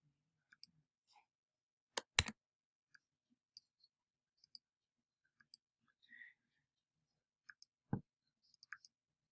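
A computer mouse clicks in a near-silent room: a sharp double click, scattered faint single clicks, and another crisp click near the end.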